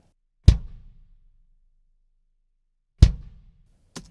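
A metal kick drum at its lowest tuning with full muffling, recorded inside a huge swimming pool, gives three isolated hits: two short, punchy thumps with a brief decaying tail, then a softer third hit at the very end.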